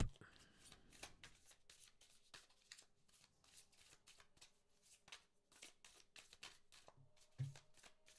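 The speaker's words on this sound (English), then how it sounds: "And as I'm shuffling" Tarot cards are shuffled by hand in quick, crisp riffles and flicks that repeat steadily at close range, quiet and isolated, with a soft low bump near the end.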